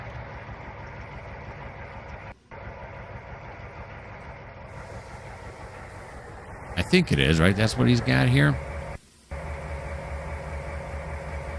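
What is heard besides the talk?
GP38-2 diesel locomotive idling and moving, Trainz 2019 video game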